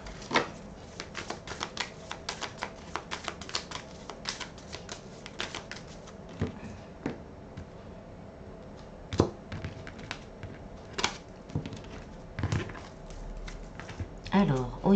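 Tarot cards are shuffled by hand, making a rapid series of close, crisp slaps and riffles that go on in uneven bursts throughout, with a voice speaking quietly at times.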